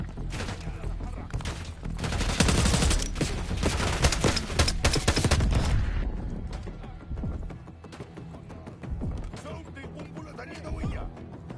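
Heavy gunfire during a Black Ops 6 campaign mission, loud dense bursts swelling for several seconds before tapering into scattered noise and distant rumble, with voices briefly heard under the action.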